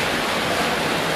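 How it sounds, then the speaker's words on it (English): Water flowing at roughly 3 feet per second through a large pipe during a flow test of a tapered check valve: a steady, loud, broadband rushing hiss, continuous and unbroken, with no voices. "the water is up to about 3 feet per second"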